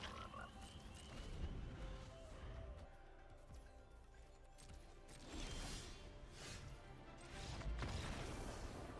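A croaking frog effect plays for the Psychic Frog card in Magic: The Gathering Arena, loud and repeated in bursts over background game music, with no talk.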